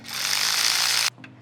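A cordless impact tool rattles loudly in one sustained burst of about a second on a bolt of a Ford Mustang GT350, then stops, followed by a brief faint clink.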